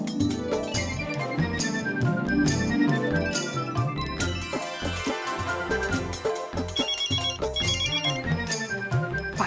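A telephone ringtone plays loudly and steadily on its own, a jingling melodic ring repeating for several seconds with no talking over it.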